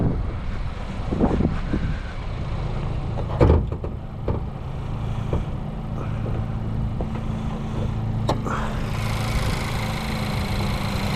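A 2023 Honda Civic Si with a 4-cylinder turbo engine and 6-speed manual sits idling, a steady low mechanical hum heard close up, broken by a few sharp clicks and knocks from nearby handling.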